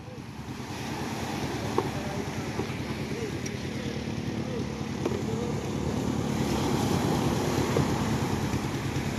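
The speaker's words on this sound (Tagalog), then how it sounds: "Ah, may alon, may alon." Sea waves wash steadily along a baywalk under gusty wind buffeting the microphone, with a continuous rolling surf and a faint boat engine hum in the background.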